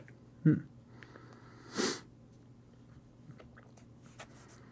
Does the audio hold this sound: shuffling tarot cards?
no